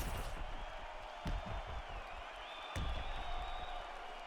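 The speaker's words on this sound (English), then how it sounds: "the crowd voicing its appreciation after that crazy sequence in the previous round" Fight crowd at a UFC-style bout between Dominick Cruz and Urijah Faber applauding and cheering steadily between rounds, a broad roar of clapping with a couple of louder swells, heard at a distance.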